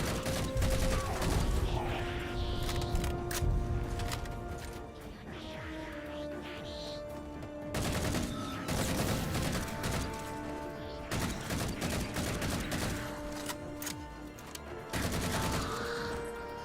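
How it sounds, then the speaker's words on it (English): Halo 4 pistol gunfire and other weapon fire come in repeated loud, close bursts over mechanical clanks and metallic in-game effects. Brief breaks fall between the volleys. "And pistol sounds weird."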